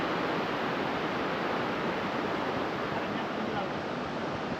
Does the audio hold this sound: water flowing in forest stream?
yes